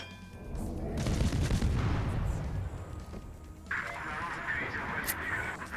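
Destroyer Leningrad's guns fire in the World of Warships naval game, sending a heavy booming salvo that rumbles away, followed by rushing battle noise and a brighter hiss.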